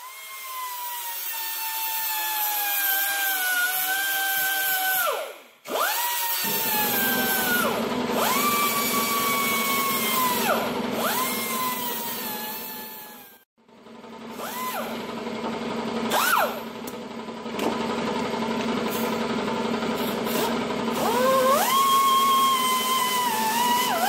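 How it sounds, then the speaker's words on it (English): Die grinder fitted with flapper wheels smoothing down ground solder, a loud close whine that rises and dips in pitch as the wheel loads and frees, with short pauses between passes and no talking. "then I take my die grinder with different flapper wheels and finish the job nice and smooth."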